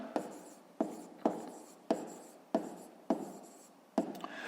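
Pen strokes on paper during a 5th-grade math exercise: seven quick, evenly spaced scratches, each sharp onset tapering off, faint and close in a quiet room.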